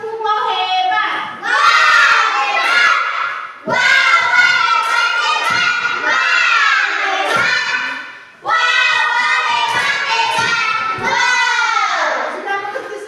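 A class of children chants the 'tepuk gong hebat' clapping routine together in loud, energetic unison bursts. The shouted phrases come in three long waves with brief pauses between them, and the room is full and lively.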